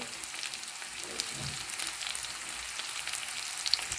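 Onions roast in a pan as ginger is added, giving a steady, soft sizzle and frying crackle with faint stirring scrapes, close by and with no talking.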